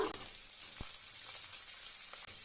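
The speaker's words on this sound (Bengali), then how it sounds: "এবার পেঁয়াজটা কুচোনোর সাথে একটু লাল লাল করে ভেজে নেব" Chopped garlic and onion frying in a pan, a quiet, even sizzle with a couple of soft knocks from a utensil.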